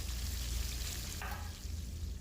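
Chopped onions sizzle steadily in hot oil while being stirred, with a brief burst of crackling partway through as they hit the pan. The sound is continuous, close and alone, with no talking.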